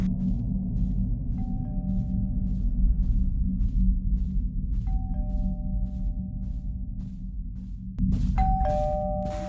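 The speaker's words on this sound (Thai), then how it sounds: "กดออดใหญ่เลย" A doorbell in a horror video game rings loudly several times, each press giving a two-tone ding-dong that sustains over a steady low background hum, with a final louder ring near the end.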